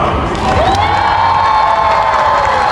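A fair crowd cheers and shouts in a loud, sustained burst at an outdoor dog show, with children's voices and whoops rising over the din.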